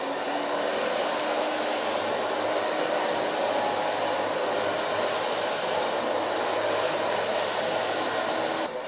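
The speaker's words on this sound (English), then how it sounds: "start blow drying in the neckline, working up till I get on top." A handheld hair dryer blows steadily on long hair while it is dried section by section from the neckline up, a loud continuous whooshing hum that holds for the whole stretch with no talking.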